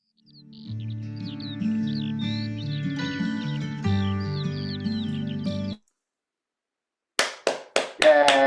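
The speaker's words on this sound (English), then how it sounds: "I'm going to clap on behalf of everybody in attendance" After a sung and instrumental performance by a singing group fades out and a short silence falls, a few sharp, close hand claps ring out in a quick uneven burst.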